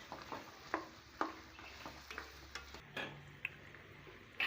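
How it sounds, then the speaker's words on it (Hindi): A spoon stirs fried potatoes and chopped bottle gourd in a pan, producing quiet, irregular scraping taps over a faint background sizzle. "लौकी डाल के एक बार इसको अच्छे से मिक्स कर लेंगे।"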